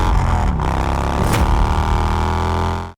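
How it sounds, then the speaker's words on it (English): A motorcycle engine with a valve train noise runs steadily at close range, a continuous mechanical drone with ticking overtones, then cuts off abruptly just before the end. "if you are experiencing some strange noises coming out of your engine"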